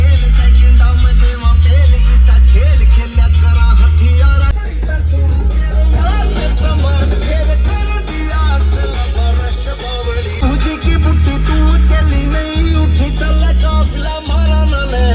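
Music plays loudly on the car stereo of a Mahindra Scorpio S variant, with heavy pounding bass and a full mix running continuously inside the cabin.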